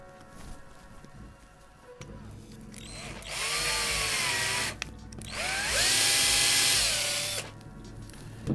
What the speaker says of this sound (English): Now that we've finished drilling the center mark for the hole